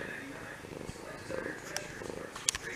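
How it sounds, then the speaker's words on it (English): A cat purring up close, a soft continuous rumble running under a noisy indoor background with scattered faint clicks and rustles. "Such a crazy kitty."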